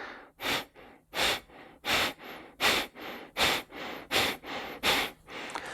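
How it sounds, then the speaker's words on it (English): Rhythmic, forceful breathy exhales through the nose in Kapalabhati yoga breathing, about ten sharp puffs in steady succession, close and fairly loud with no talking. "So what Kapalabhati does is forcefully exhales and gets rid of this,"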